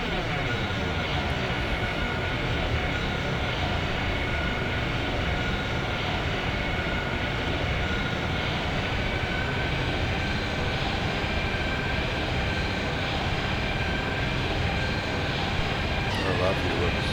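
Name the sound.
E175 jet engine sound in replay, X-Plane 10 video game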